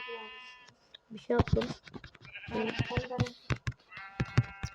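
Sheep in the Minecraft video game bleat several times with nasal, wavering calls, some alone and some overlapping a person talking nearby.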